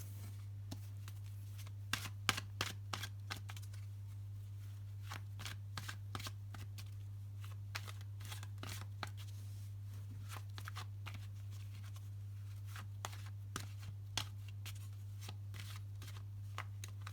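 Soft, scattered clicks and snaps of cards being handled and shuffled, faint and close, over a steady low electrical hum.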